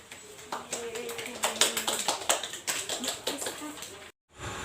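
Applause from a primary-school classroom: dense, ragged clapping of many small hands for about four seconds, fairly close, ending abruptly in a brief silence.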